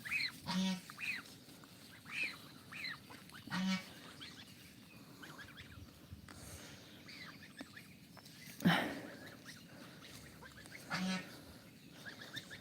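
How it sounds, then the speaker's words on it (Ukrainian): A goose honks several times at intervals, fairly near, against quiet outdoor background with faint voices. "Що, не чуєте, що гуска укає?"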